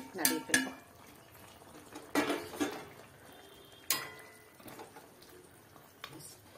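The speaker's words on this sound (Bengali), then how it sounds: "তারপরে নাড়িয়ে ফেলবো" Shorshe mustard chicken, with stock and mustard gravy, stirred in a pot: a few sharp utensil clinks and scrapes against the pot, separated by quiet gaps, fairly soft overall.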